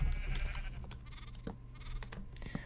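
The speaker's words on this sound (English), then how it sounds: "I really have an urge to kill all the sheep already. They're really annoying." Repeated sheep bleats in the Minecraft video game, short overlapping calls spread across the clip at moderate volume with some background game noise and no talking.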